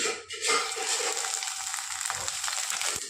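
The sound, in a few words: tomatoes frying and sizzling in oil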